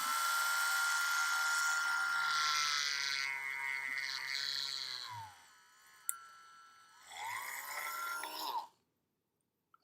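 A power drill whines loudly and steadily as it bores into a toy, its pitch shifting and sagging before cutting out, briefly restarting, then stopping abruptly with silence after.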